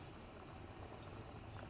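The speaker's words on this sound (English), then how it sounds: "we're going to let this simmer medium high for about 45 minutes" Chili with beans simmering uncovered in a pot over medium-high heat, a faint, steady bubbling and gentle hiss, close and quiet, with no talk.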